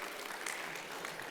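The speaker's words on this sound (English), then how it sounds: "A big round of applause." An audience at a technology conference in a convention centre applauds, the clapping steady and even but heard faint and from a distance, in a brief burst.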